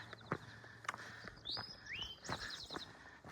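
A bird gives a few loud, rising whistled calls, with a scratchy chirp sequence after, against outdoor background noise on an Appalachian Trail ridgeline.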